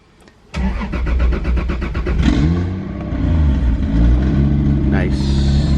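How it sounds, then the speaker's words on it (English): A Toyota Supra turbo engine cranks and fires after a brief quiet moment, then settles into a steady, loud idle that carries on to the end, with a short rev near the close. "So let's just start the car."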